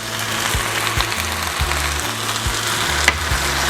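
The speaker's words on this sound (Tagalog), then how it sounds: "pwede na natin ilagay ang ating chorizo" Chorizo fries in a hot pan with a steady, dense crackling sizzle, close and loud, with a low rhythmic thumping underneath and a sharp clink near the end; no one speaks.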